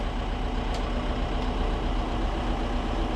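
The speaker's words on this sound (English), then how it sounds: "So while the tractor's warming up" A tractor engine idles while warming up, a steady low diesel rumble that runs unchanged throughout, close by and alone without voices.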